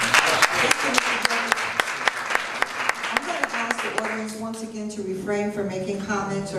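An audience at a candidates' debate applauds, a dense burst of loud clapping with sharp individual claps that thins out as a voice starts speaking over the tail.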